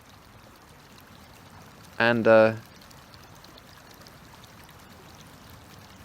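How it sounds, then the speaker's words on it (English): Gentle flowing water from a stream trickles and pours in a steady low wash throughout, briefly interrupted by a single spoken word in the middle. "I can listen to the flowing water"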